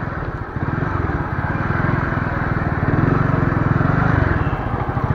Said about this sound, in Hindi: अब मोटरसाइकिल को मोड़ूं कैसे?